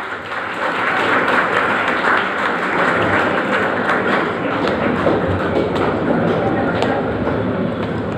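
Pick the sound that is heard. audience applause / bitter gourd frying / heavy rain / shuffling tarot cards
audience applause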